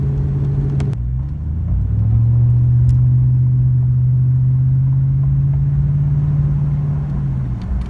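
A steady low exhaust rumble from a 2003 Chevrolet Silverado truck cruising at about 70, continuous and fairly loud with a brief shift near the start.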